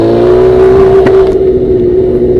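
Motorcycle exhaust revving in traffic: a loud, steady engine drone with a sustained tone, rising briefly to a sharper rev partway through, continuous and close throughout.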